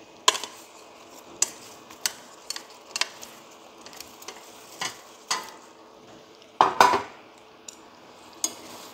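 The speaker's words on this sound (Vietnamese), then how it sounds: "Sau khi đã cho vào xong thì mình trộn đều lại." A utensil stirs sweet potato into caramelizing sugar in a pan, with a soft sizzle and a series of sharp scraping clinks against the metal, close and otherwise quiet.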